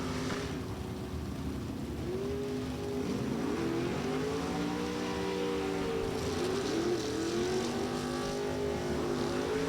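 A Chevrolet Roadster drag race car with a 510-cubic-inch Chevrolet engine races at a drag strip, its engine note sweeping up and down in pitch in a continuous, moderately loud roar.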